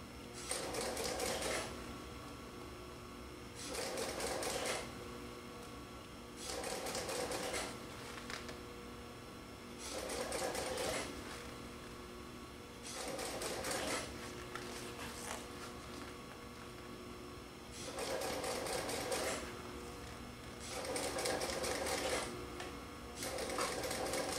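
A sewing machine stitches upholstery material for an old marine chair in repeated bursts of rapid mechanical whirring, about eight runs separated by short pauses, close and steady, with no one talking.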